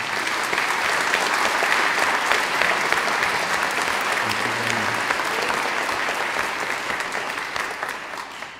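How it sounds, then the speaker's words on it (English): A church crowd applauds an assistant at a farewell gathering for a parish priest, a dense, sustained clapping that holds steady for several seconds before tapering off at the end. "please give her an applause"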